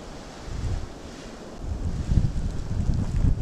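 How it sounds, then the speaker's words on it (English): Strong wind from a snow storm in Nova Scotia roars steadily as broadband noise, gusting louder and rumbling against the microphone in the second half, with no talk. "I don't know if you can hear that wind, see that mess"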